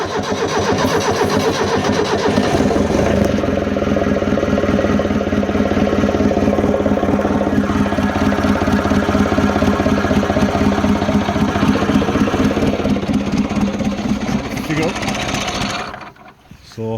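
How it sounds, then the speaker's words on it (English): An excavator diesel engine with all injectors tightened is cranked and started, running as a loud, steady rumbling idle for about fifteen seconds before cutting out abruptly near the end. "trying the first start with all the injectors tight"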